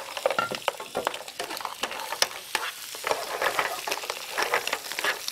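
Mussels and roasted garlic cooking in a pan, a busy crackling sizzle with frequent clicks of shells shifting and stirring throughout.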